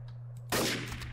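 A single sharp rifle shot from Garry's Mod's Trouble in Terrorist Town mode bursts out close and loud after a brief quiet moment, then decays quickly.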